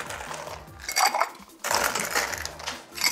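Ice rattling hard inside a cocktail shaker while a Long Island Iced Tea is shaken, giving close, rapid clattering bursts with a brief pause in the middle.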